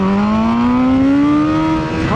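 A BMW S1000RR racing motorcycle brakes hard on a race track at Ridge Motorsports Park, its engine note loud and close and slowly climbing in pitch for about two seconds, then dipping briefly.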